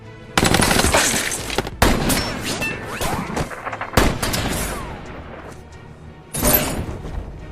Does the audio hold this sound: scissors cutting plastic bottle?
no